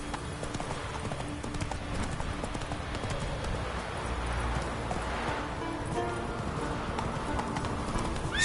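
Horse hooves clip-clop steadily at a riding pace across open ground in The Witcher 3 on Skellige, a continuous rhythmic gait under ambient wind.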